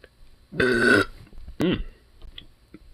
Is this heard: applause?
no